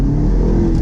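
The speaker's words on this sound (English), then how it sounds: "This car also has a full Mansory exhaust," Sports car with a full Mansory exhaust and PDK gearbox revving, a steady loud engine drone close by with no pauses and no talk.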